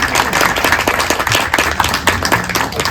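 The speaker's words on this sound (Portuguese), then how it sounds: "Então, uma salva de palmas para o Kiko." An audience claps for Kiko at a literary conversation with Sérgio Rodrigues in Petrópolis. The clapping is loud, close and brisk, with sharp, uneven hand strikes packed together for a few seconds.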